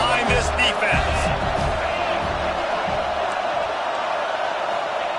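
A stadium crowd at a USC college football game roars steadily behind the defense on a third down, a dense, continuous wall of cheering with an announcer talking over it.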